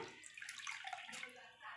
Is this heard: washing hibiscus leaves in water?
yes